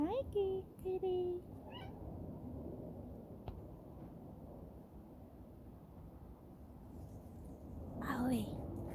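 A cat meows a few times in short harmonic calls near the start and again near the end, over a low rumbling background like distant thunder.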